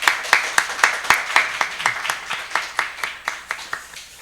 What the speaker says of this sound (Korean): 우리 다시 한번 격려와 축복의 박수 부탁드리겠습니다.